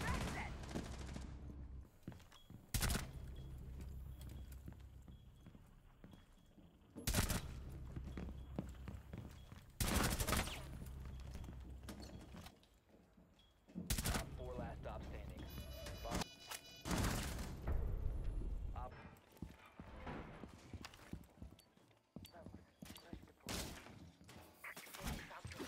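Bursts of automatic fire in a video game shooter, with a few single shots and quieter stretches between the loud volleys.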